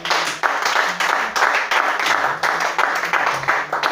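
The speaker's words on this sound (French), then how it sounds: "Alors on acclame Jésus-Christ pour cette vie" A church congregation at a worship service applauds together, a dense, steady clapping that swells and surges in rhythmic waves, with no voices over it.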